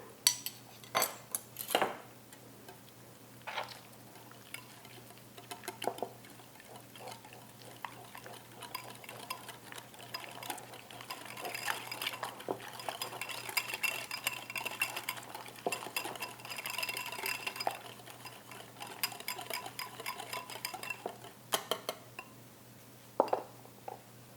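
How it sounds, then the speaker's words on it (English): Cucumber salad is mixed with yogurt dressing in a bowl, giving soft wet stirring and occasional clinks of a utensil against the dish, fairly quiet and close, with no talking. "Now I mix this all together."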